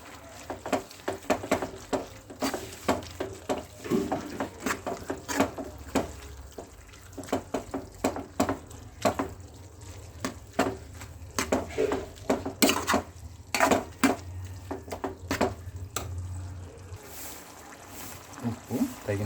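A utensil scrapes and clatters in a pan while mutton mince is stirred together with ginger garlic paste, giving steady irregular knocks and scrapes over several seconds with occasional talk.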